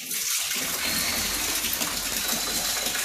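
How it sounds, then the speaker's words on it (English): Water from a well pump gushes steadily into a tank fitted with a float valve at an off-grid RV mountain lot in western Colorado, a continuous, loud rushing flow with no pauses. "So the water comes in at the bottom of the tank"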